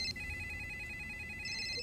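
A telephone line rings on a live call-in finance programme, a steady electronic ring repeating through the short moment, clear and fairly close over a faint studio background.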